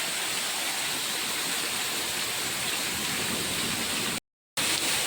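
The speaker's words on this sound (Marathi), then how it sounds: "आता पाऊस चालू झाला आमच्याकडं भारी भारी" Heavy rain pours steadily over flooded farmland, a dense, loud, even hiss with no letup, broken only by a brief dropout near the end.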